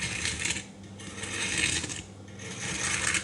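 Crispy homemade McDonald's-style hash brown potato crunching close up in repeated bursts, loud dry rasping crackle with short pauses between bites or breaks.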